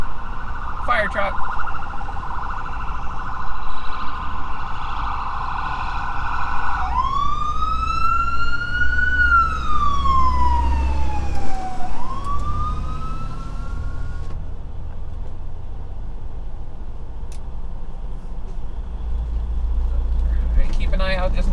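A fire truck siren in Tulsa traffic, heard from inside a car, holds a loud steady tone, then sweeps into a rising and falling wail before trailing off under engine and road noise.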